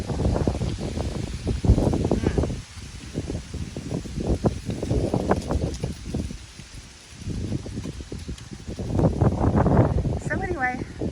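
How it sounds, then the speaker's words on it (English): Strong wind gusts blow through an outdoor garden by a front walkway in fall, rushing and buffeting the microphone in surging waves with rustling, while a person talks over it throughout. "it's super windy today"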